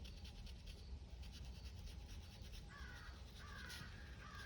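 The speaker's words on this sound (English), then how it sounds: "Sound of the wind in the trees and the birds, all kinds of different birds." Birds calling outdoors among trees in the wind, with a few faint cawing calls over a steady rustling, scratchy background.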